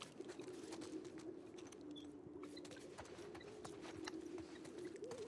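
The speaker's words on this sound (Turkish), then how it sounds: "Bu ne abi? Kuş sesi falan mı?" Birds sound in a forest setting in The Last of Us Part 2, with a low dove-like cooing that warbles up and down over steady ambient noise. The cooing is faint and continues alone for about five seconds.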